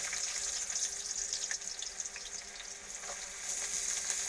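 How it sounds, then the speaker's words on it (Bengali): Onions fry in hot oil in a pan for a mutton dish, giving a soft, steady sizzle with faint crackles that swell slightly near the end, no voices. "পেঁয়াজগুলোকে লাল লাল করে ভেজে নেবো।"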